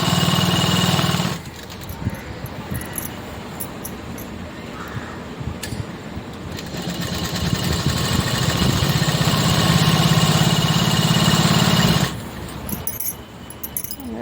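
A sewing machine hems the folded edge of a saree in close bursts, whirring at the start, pausing through quieter handling, then running steadily again for several seconds before stopping.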